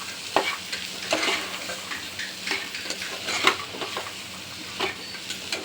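Roasted chickpeas are stirred into a sizzling Maharashtrian harbhara bhaji in a pan, with soft frying hiss under repeated scraping strokes of a spoon, close up and without talk.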